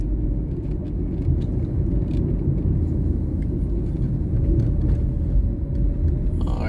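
A car drives along Constant Spring Road in Kingston, giving a steady, loud low engine and road rumble from inside the cabin with no pauses, and a faint rising whine at the very end.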